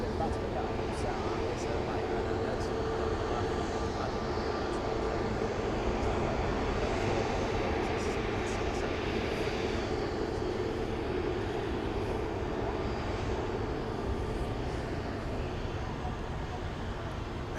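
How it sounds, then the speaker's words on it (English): A jet airplane powers up and takes off from runway 24 left at Manchester Airport, a steady broad engine roar heard from a distance that holds without a break, with a voice talking over it. "power up and take off on runway 24 left"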